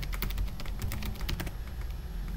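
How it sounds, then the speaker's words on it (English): Quick bursts of keystrokes on a computer keyboard as a command is typed into a terminal, close and crisp clicks in an uneven rhythm with no voices. "if you want to exit the virtual environment I just type deactivate"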